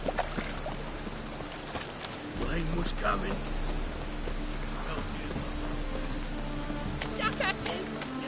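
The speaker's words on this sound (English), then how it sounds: "Rain was coming." Steady rain falls and patters on surfaces in the video game The Witcher 3, a soft continuous hiss with occasional muffled voice sounds over it.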